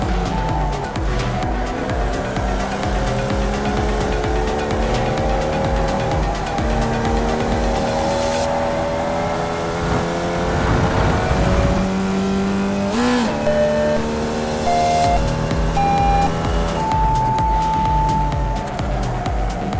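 Formula Vee race car lapping the Rudskogen Motorsenter track, its engine droning loudly and continuously, pitch rising through revs and dropping at shifts and braking, with a brief screech of tyres midway.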